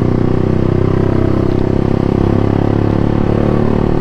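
A Honda CBR150 motorcycle engine revs loudly and continuously while riding, a dense, close, buzzing drone with slight throttle swells and no pauses.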